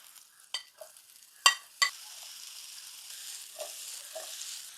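Paneer shallow frying in ghee in a pan, a faint steady sizzle broken by a few sharp clinks and scrapes of a utensil against the pan, with no talking.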